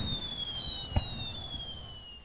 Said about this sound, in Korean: 불꽃놀이가 시작되기 전에 와서 다행이다